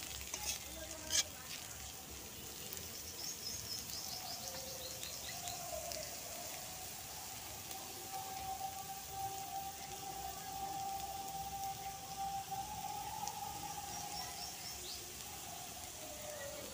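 Potatoes and green chillies deep-fry in oil, making a faint, even, continuous sizzle and bubbling with no talking.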